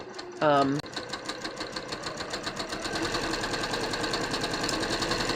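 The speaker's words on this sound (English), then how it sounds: "I'm stay stitching." A sewing machine runs steadily, stay stitching a bias-cut bateau neck blouse, its rapid even stitching pulses close and constant after a brief vocal sound at the start.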